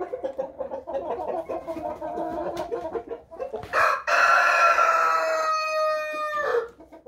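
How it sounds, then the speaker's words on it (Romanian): A new-line rooster crows once in a long, loud, drawn-out call close by, following a stretch of busy clucking and farmyard fowl noise on a chicken farm. "Am adus un cocoș linie nouă"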